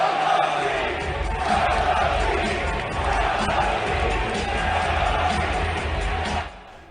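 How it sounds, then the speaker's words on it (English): A crowd of New York Knicks fans chanting "sell the team" inside an arena, a dense, steady roar of massed voices that holds loud for about six seconds before cutting off sharply. "Dolan was so upset by the sell the team chants"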